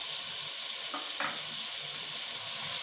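Carrots and capsicum frying with chicken in a pan, a steady soft sizzle with a couple of brief stirring clinks, quiet and alone.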